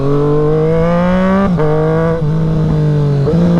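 A Triumph Street Triple RS motorcycle engine revs hard and steady, with pitch dips around brief gear shifts, loud and close throughout.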